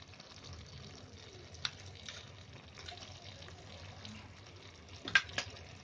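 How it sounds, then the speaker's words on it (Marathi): Water is poured into a pan of jackfruit seed curry (hatla bhaji), a soft, quiet trickle with a couple of brief splashy bursts near the end over low kitchen background. "आणि थोडं पाणी ओतायचं"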